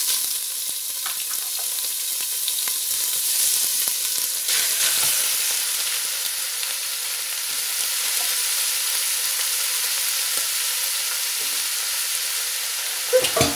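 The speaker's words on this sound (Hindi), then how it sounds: "कीमा डाल लिया, कीमे को भूनेंगे।" One kilogram of minced keema fries in hot olive oil with a loud, even sizzle and hiss held close throughout, and a few faint stirring scrapes underneath.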